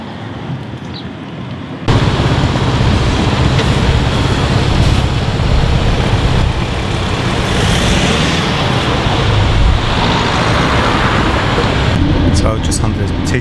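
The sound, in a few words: riding T12 local bus, road traffic noise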